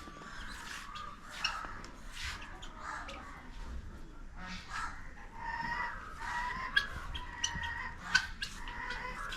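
A Japanese bantam chicken clucks close by in repeated short bursts, with other fowl calling and clucking around it in an outdoor poultry area at an elephant park.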